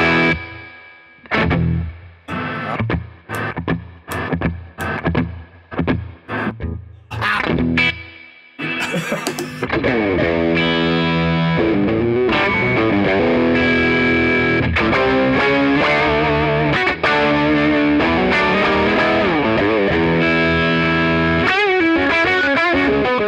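Electric guitar through a TS-10 Tube Screamer overdrive pedal, first a run of choppy staccato chords with short gaps, then sustained driven chords and melodic lines ringing continuously, loud and up front.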